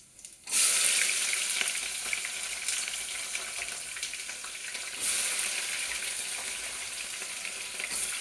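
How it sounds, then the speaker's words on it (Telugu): Onions and green chillies for biryani frying in a pan, a loud, close, continuous sizzle that starts abruptly as they hit the oil and holds steady throughout, with a brief surge midway and no talking. "రెండు పెద్ద ఉల్లిపాయలు వేసానండి. ఇది 6 పచ్చిమిరపకాయలు వేసాను. ఇది బాగా వేగాలి."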